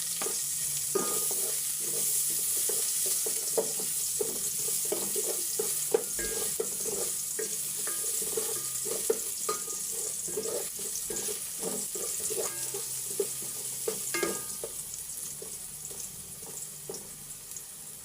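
Ginger sizzling and frying in a hot pan for chicken tinola, a steady close crackling hiss broken by frequent sharp stirring scrapes and clinks throughout, with no talking.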